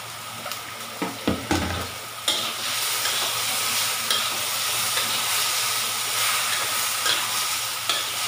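Hairy gourd stir-fried with pork and vermicelli in a pan, a continuous loud sizzle with several sharp spatula clanks and scrapes early on, then steady frying hiss with occasional stirring knocks.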